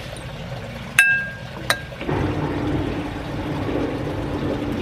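Peach Perrier meets a glass: two sharp clinks of glass, then a steady fizzing pour that continues to the end, close and fairly loud.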